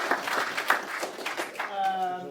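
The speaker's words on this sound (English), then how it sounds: "I'd like to start with a very warm applause for hosting us here" At a fintech meetup, an audience briefly claps for the host with a short, uneven burst of applause that fades after under two seconds as a voice begins speaking.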